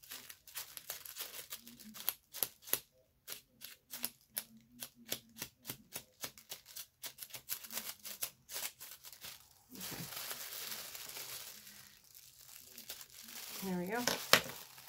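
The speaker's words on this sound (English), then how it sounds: "I don't torture you all with ripping all that tissue paper." Tissue paper is ripped and crumpled close up while a Christmas swap gift is unwrapped, with busy bursts of crinkling and tearing and a voice speaking now and then.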